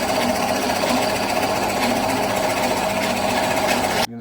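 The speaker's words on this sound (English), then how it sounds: "and I need to drill that 2 centimeters down" A drill press bores a 42 mm hole into wood for a mushroom-shaped pepper grinder, giving a steady, loud whirring grind that holds for several seconds and then stops abruptly.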